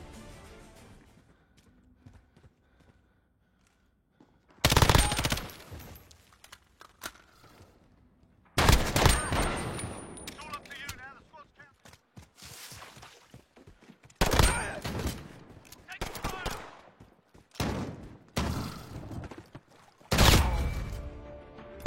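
Bursts of gunfire from the Call of Duty Gunfight video game, rapid automatic volleys and single shots in short clusters separated by quieter stretches, fairly loud against a low background.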